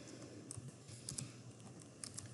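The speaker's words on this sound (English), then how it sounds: "We'll do so first by typing in our model name." Faint, quiet typing on a computer keyboard, a few soft, irregular key clicks over a low background hum with no voices.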